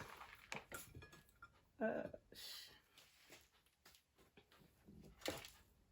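Beef suya moved onto a plate, with scattered clinks of utensils and dishware and light scraping, some sharp knocks standing out near and moderately loud.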